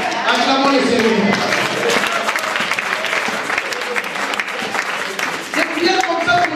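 A church congregation applauds in sustained, dense clapping that carries throughout, with voices calling out over it.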